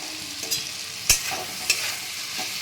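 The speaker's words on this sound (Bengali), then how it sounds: "দেখো ভাজা ভাজা হয়ে গেছে, তেল বেরোতে শুরু করে দিয়েছে" Okra (bhindi) frying in oil: an even sizzle heard up close, with a few crisp spatula taps and scrapes against the pan and no voices.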